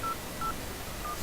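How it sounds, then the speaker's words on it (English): Three short, evenly spaced telephone keypad dialing tones sound while someone calls Alan, followed by a brief low thump at the end; no speech. "So ring Alan."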